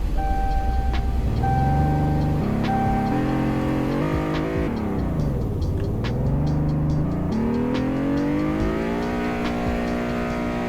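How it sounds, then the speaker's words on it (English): A cheap base-trim car engine in the Roblox game Greenville revs through gears, rising and dropping in stepped pitch with a dip and climb midway; steady, loud and synthetic-sounding with no backfire and no talking. "So let's compare this engine sound."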